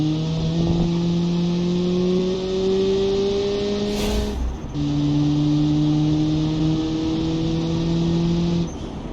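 An 80s American turbo sports car engine in BeamNG roars at full throttle, loud and sustained, its pitch climbing steadily through two long pulls with a brief shift break midway.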